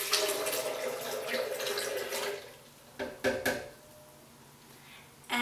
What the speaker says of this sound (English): Add the 3 cups of filtered water.